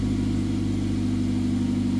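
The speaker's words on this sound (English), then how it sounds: "you can see how it revs differently" Mazda car engine running steadily with a low, constant hum and no clear revving swell, close and alone.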